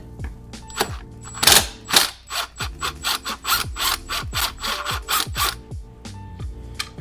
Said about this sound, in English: It's going to need a T30. So we will go ahead and see if we can undo it real quick.